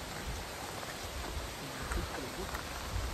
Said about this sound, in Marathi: आता खूप जोराचा पाऊस येतोय